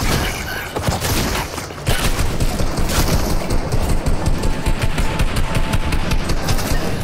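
Gunfire in the video game Fortnite: loud, continuous rapid bursts of automatic weapon fire with dense repeated shots, briefly easing before resuming in a steady fusillade.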